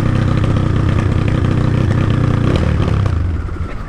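A Honda Today motorcycle engine, being broken in and running on alcohol fuel, roars loud and close with a rough, clattery drone that holds steady before easing slightly at the end.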